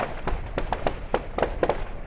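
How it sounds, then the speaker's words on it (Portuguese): Gunfire during a roughly ten-minute shootout: a rapid string of sharp, loud cracks, about a dozen shots in two seconds, irregularly spaced and echoing, with no voices. "O tiroteio durou cerca de 10 minutos."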